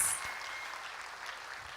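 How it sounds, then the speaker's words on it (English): A church conference audience applauds, a dense, steady patter of many hands clapping at moderate volume with no voices over it. "Another round of applause for that beautiful message from Pastor Gladys."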